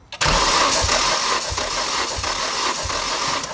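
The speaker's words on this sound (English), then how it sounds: "We're going to stick it in, and while we're cranking, we're going to give it full throttle, get as much air in there as we can." A Vauxhall Corsa turbo engine cranking at full throttle, the starter motor churning loudly and continuously with rhythmic low thumps from the cylinders, close up.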